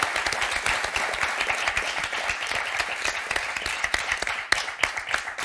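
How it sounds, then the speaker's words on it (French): A French game-show studio audience applauds loudly and continuously, dense rapid clapping throughout. "On va applaudir très fort."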